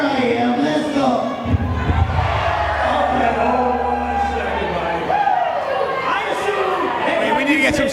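A crowd at an independent wrestling show roars and cheers steadily throughout, a dense wash of voices with a commentator talking over it.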